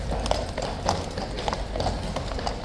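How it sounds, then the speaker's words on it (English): Hooves of a King's Guard cavalry horse clip-clop in a steady, repeated rhythm on hard ground, fairly close, with a restless mount nearly throwing its rider amid light background bustle. "He almost tried to throw the rider then."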